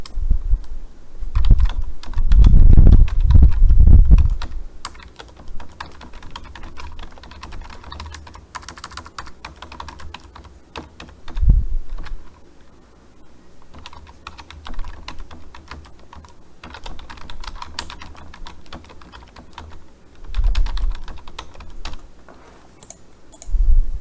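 Typing on a computer keyboard, bursts of loud, close key clicks in uneven runs with short pauses between, and no talking.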